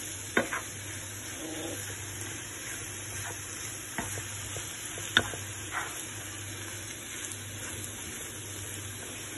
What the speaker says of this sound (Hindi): अंडे को मैंने धनिया डाल दिया, अब इनको मैं धनिया को अच्छी तरह से कर लेती हूँ मिक्स